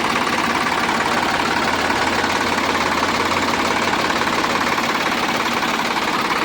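A 50 HP Sonalika DI 745 tractor engine idles with a steady, close, low diesel drone and faint knocking rhythm, running unchanged throughout with no voices.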